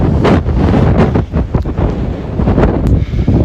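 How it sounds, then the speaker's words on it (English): Strong wind buffets the microphone at a park with a steady, loud roar that rises and falls in gusts throughout. "Excuse the wind, it's very windy today"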